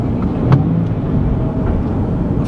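A 2017 Nissan 370Z with a manual gearbox revs its engine during rev matching, a steady, loud, close drone with a brief swell partway through and no talking.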